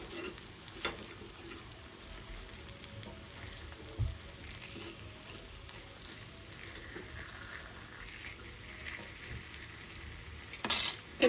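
Appe batter sizzles softly in an appe pan while the pieces are turned. Faint frying crackle runs throughout, with scattered scrapes and light metal clinks from the turning and a brighter clatter near the end.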